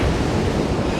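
Ocean surf washes onto the shore at St Combs in Aberdeenshire, a steady broadband rush close by, with heavy wind buffeting the microphone.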